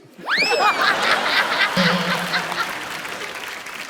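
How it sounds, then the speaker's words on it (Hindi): Studio audience on a Hindi comedy talk show bursts into lively clapping mixed with laughter and whoops, loud at first and then easing off while still going through the end. "दे ताली।"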